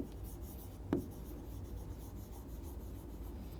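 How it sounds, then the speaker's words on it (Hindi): Marker or chalk writing on a classroom board during a maths lesson, a faint scratchy stroke with one sharp tap over steady room noise and no speech. "नीचे हम लिख देते हैं नंबर ऑफ बॉटल्स"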